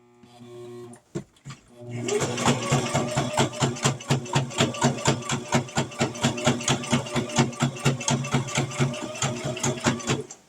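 Fast, steady chatter of a sewing machine back stitching around a coffee cup cozy, a brief start and stop, then continuous close mechanical rattling.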